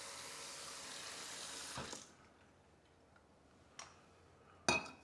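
Water runs steadily from a kitchen sink tap into a Jetboil MiniMo cooking pot, then stops, with a couple of sharp clunks from handling the pot afterwards.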